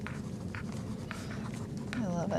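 A Sakura Pigma Micron PN pen writing on journal paper makes short scratchy strokes close by, with a voice briefly heard near the end.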